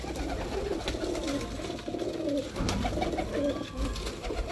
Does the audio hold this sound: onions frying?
no